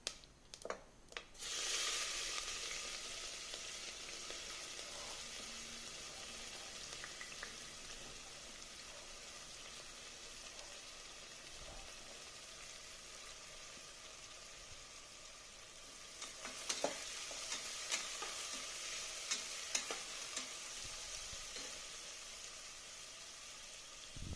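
Peanuts fry in hot oil in a pan after mustard seeds, for spicy khichdi: a steady, close hiss of sizzling runs throughout, with a few utensil knocks near the start and a brief burst of stirring and clinks later, no voices.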